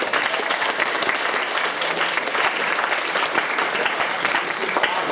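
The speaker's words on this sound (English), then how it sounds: "applause for these guys." An audience claps steadily at a live comedy debate event, a dense, even wash of applause from a crowd that holds at full level throughout with no voices standing out.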